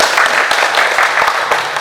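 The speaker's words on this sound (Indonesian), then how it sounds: "Tepuk tangan untuk kita semua." A crowd applauds at a political party registration event for a deputy regent candidate in Sikka, Indonesia, a loud, dense spread of clapping with sharp individual claps standing out.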